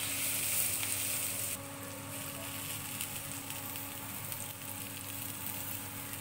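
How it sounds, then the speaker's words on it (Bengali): Spices such as turmeric powder sizzle as they lightly fry in oil in a pan, a steady close hiss that stays loud throughout with occasional stirring, preparing a bean (sim) bhorta. "মশলাগুলি হালকা ফ্রাই করলেই হবে। মাঝে মাঝে নেড়ে দেব।"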